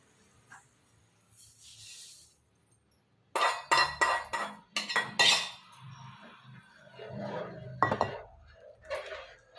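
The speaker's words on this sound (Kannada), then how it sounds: "ಅಕ್ಕಿ ಹಾಕಿ ಚೆನ್ನಾಗಿ ಮಿಕ್ಸ್ ಮಾಡ್ಕೊತಾ ಇದ್ದೀನಿ" Rice being tipped into a pot and stirred while cooking sprouted methi rice bath, with a run of close clinking and scraping of a utensil against the pot after a quiet start, followed by softer stirring.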